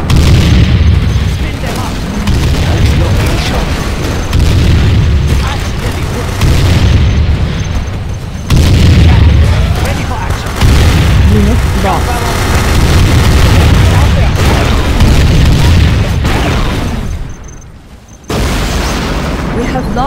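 A nuclear missile strike in the video game Command & Conquer Generals Zero Hour unleashes loud, sustained booming and deep rumbling explosions that roll on in heavy waves, with an announcer's voice speaking over the blasts.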